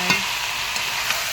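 Meat with onion, ginger and garlic sizzles in a pan over a wood fire. A steady frying hiss runs throughout, and a few soft scraping stirs are heard up close.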